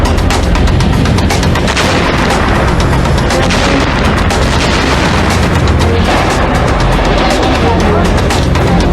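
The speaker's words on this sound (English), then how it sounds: "One after another, they begin to explode." Propane tanks stored inside a burning house exploding one after another: a dense, continuous roar of fire with repeated heavy booms and cracks, loud and close throughout.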